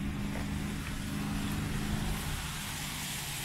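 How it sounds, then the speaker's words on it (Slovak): Steady low rumble of cars and motorcycles travelling along a road beside a forest, heard at a distance as a continuous faint drone with no talk. "ešte aj počuť autá, motorky."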